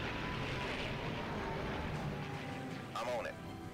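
Propeller engine of a WWII fighter plane in the Iron Wings arcade flight combat game, a steady loud drone running throughout the clip under background game sounds, with a brief whooshing sweep near the end.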